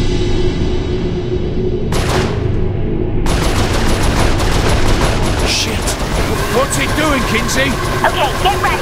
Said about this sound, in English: Shoot the panel on the left. I mean, the right.